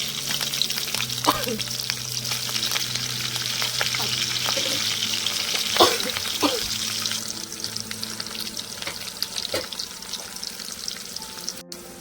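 Onions frying in hot oil, giving off a steady, close sizzle and crackle, with occasional scraping clinks of a spoon stirring the pan.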